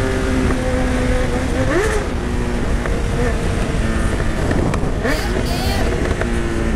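A Honda CB1000 motorcycle engine revs and accelerates with rising pitch over steady wind and road noise, while faint voices talk in the background.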